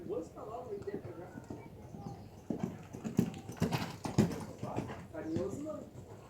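A horse's hooves beat in a steady clip-clop during a show-jumping warm-up under saddle, moderately near, while a person talks over it for most of the time.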